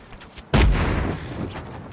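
Grenade explosion in the video game Just Cause 3, a single loud, deep boom with a rumbling decay, heard under a voice talking.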